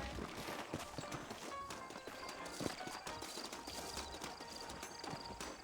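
Horse hooves clip-clop steadily in the video game Red Dead Redemption, a faint continuous trotting rhythm under soft background noise.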